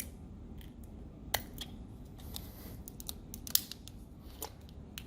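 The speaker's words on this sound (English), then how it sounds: "I'm using a tool to kind of pop this up" A small tool prying at the plastic screw piece of a denture makes a scatter of faint, sharp clicks and snips, a few louder cracks standing out against near silence.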